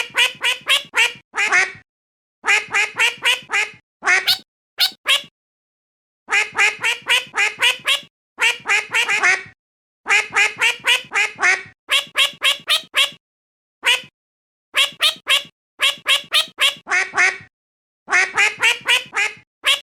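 Repeated bursts of loud, close duck quacking in rapid rhythmic groups separated by short silences, used as a meme sound with no talking.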